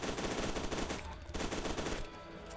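Rapid automatic gunfire in the video game F.E.A.R. 2, dense bursts of shots that ease off briefly in short gaps, quiet overall in the mix.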